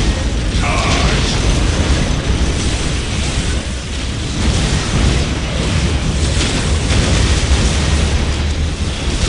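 A Predator tank from Warhammer 40k Soulstorm rumbles along with loud, continuous mechanical grinding and clanking tracks, a dense, steady roar filling the whole stretch with no pauses.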